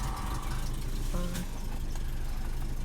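A classic Peugeot 504 GL engine idles steadily on its own after starting, a low even rumble close by with no talk over it.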